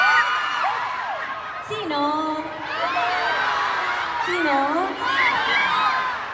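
A large crowd at a mall fan event screams and cheers in long rising waves of shrill shrieks, loud and continuous, while someone speaks briefly over the noise.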